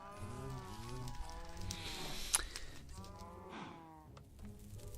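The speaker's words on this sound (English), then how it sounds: "he is trying to get to those other cows" Cows moo repeatedly in Minecraft on the FTB Regrowth modpack, several overlapping drawn-out calls at close range with a brief sharp click partway through.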